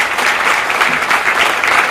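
Audience applause at a junior calf show, a loud, dense and steady round of clapping from a crowd lasting the whole stretch, with no talk over it.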